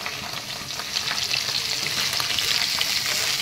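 Dense, loud crackle of fish frying in hot oil in a kadai over a high gas flame, steady and unbroken throughout.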